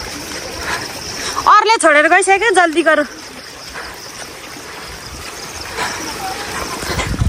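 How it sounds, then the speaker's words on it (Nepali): Water from a burst spring gushes and trickles steadily outdoors in a hillside village, a constant rushing stream with insect chirps in the background; a person speaks briefly near the start over the flow. "आज त एकदम पानी फुट्यो है पानी मूल फुट्यो है जताततै"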